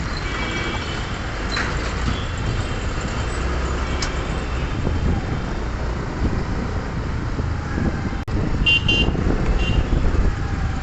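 Road traffic passing near a vehicle parked at the roadside, a steady broad rumble of engines and tyres with some wind, continuous and fairly loud throughout, with no one talking.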